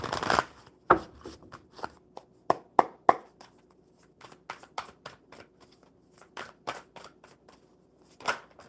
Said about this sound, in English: 1 more good shuffle for Ima